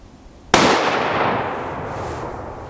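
One loud rifle shot cracks out with a sudden sharp onset, then a long reverberating rumble trails away over the next couple of seconds.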